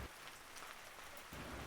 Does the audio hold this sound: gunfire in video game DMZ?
no